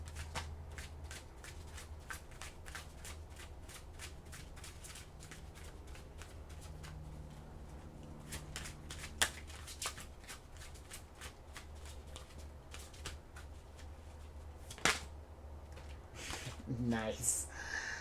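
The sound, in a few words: shuffling oracle cards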